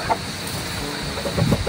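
Chickens cluck softly nearby over a steady background hum, with a few short bursts of clucking toward the end.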